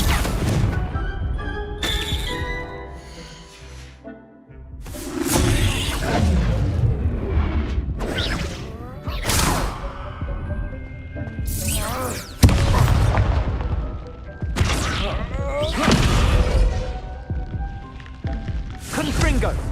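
Confringo blasting spell explosions in the video game Hogwarts Legacy: repeated sharp, booming bursts in quick succession over busy combat noise, with voices present.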